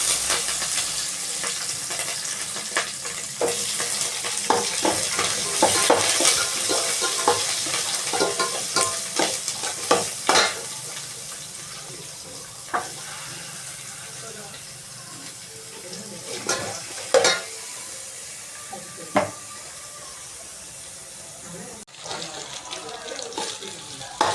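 Onions and curry leaves fry in a pan with a continuous sizzle, broken by sharp clatters of stirring and splashing. The sizzle fades a little over time, and a voice speaks now and then.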